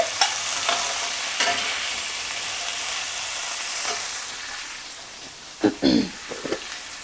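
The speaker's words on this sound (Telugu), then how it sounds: "ఇప్పుడు అన్నీ తిప్పుకోవాలండి" Sambar ingredients stirred in a hot pan give a steady sizzling hiss with periodic spoon scrapes, ending in a louder cluster of clattering strokes near the end, close up and without speech.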